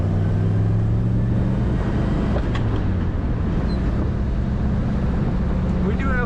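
A smooth-running 1965 Chevrolet Chevelle Malibu convertible sits with the top down, its engine holding a steady, close low rumble throughout. A brief clatter breaks in near the middle, and a faint chirp follows toward the end.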